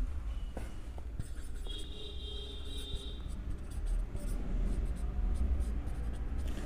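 A pen scratches out a compound-interest equation on paper in short quiet strokes over a steady low background hum, close and faint with no talking.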